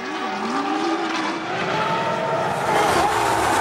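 A 2004 Formula 1 car driven by Fernando spins with engine oil leaking onto its rear tyres, its engine note wavering and sliding in pitch amid loud broadband track noise and faint skidding.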